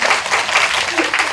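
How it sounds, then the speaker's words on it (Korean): A brief burst of audience applause at an information session at a neighbourhood community centre, close and fairly loud, with overlapping claps for just over a second. "오늘 박수 좀 쳐주세요."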